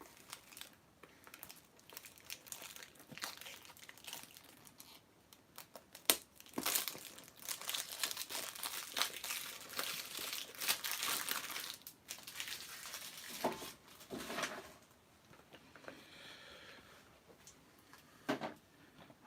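Shrink-wrap packaging is ripped off a box of floppy disks, giving a close, irregular run of crinkling and tearing plastic with sharp crackles and short pauses between bursts.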